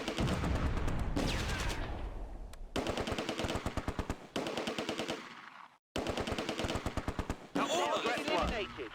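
Vickers machine gun fire in the WWII video game Close Combat: A Bridge Too Far at Arnhem Bridge, loud rapid rhythmic bursts repeated several times with short pauses between them.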